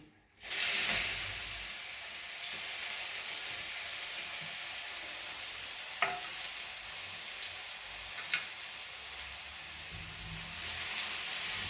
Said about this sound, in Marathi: आता सुरुवातीला काय करणार आहे मी त्याच्यामध्ये कांदा घालून घेणार आहे